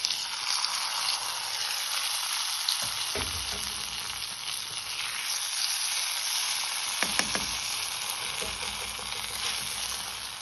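Roasted coconut poured into a pot of pumpkin and bean erissery curry, giving a steady loud sizzle and frying hiss with a couple of brief stirring clatters, no voices.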